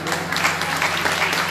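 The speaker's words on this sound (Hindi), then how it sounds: "तालियों में कोई किसी ना करे तालियों बजा करे" An audience claps steadily and loudly at a Srimad Bhagwatam religious gathering in Baghpat, dense applause filling the moment over a low sustained hum.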